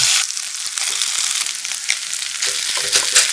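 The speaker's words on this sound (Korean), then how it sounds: "중약불에 팬 올려 기름 충분히 두르고 달궈지면 반죽 충분히 올리고" Batter fries in a generously oiled pan over medium-low heat, a loud dense crackling sizzle throughout, with small pops and light scraping ticks scattered through it and no talking.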